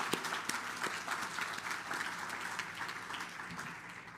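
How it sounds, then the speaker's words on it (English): Audience applauding at an education awards ceremony in the Western Cape, a fairly distant, even spread of clapping from a large hall that holds steady throughout. "I think that deserves a round of applause."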